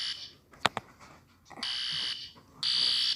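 Fire alarm sounding in two steady, piercing bursts, preceded by a couple of sharp clicks, fairly faint with no talk.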